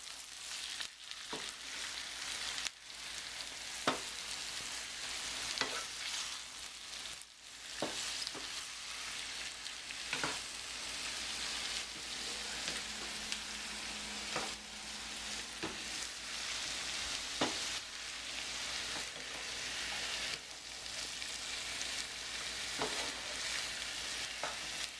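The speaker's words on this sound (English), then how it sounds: "Then you mix the eggplant with the onion. Try to cover it and coat it evenly." Eggplant and onion sizzle steadily in a hot pan while a spoon stirs them, with periodic scraping clicks over a continuous frying hiss.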